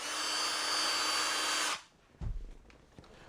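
Drill whirring loudly and steadily in the video game Silent Hill Homecoming, then cutting off abruptly, followed by a few thuds and scrapes.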